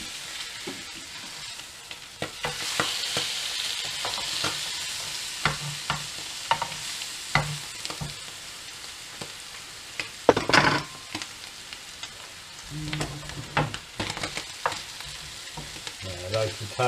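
Potatoes and carrots fry in a supposedly non-stick pan, giving a soft continuous sizzle under frequent clacking and scraping stirs from a utensil, one louder clatter midway, and no talk.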